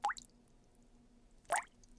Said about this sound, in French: c'est une goutte qui coule du robinet de la cuisine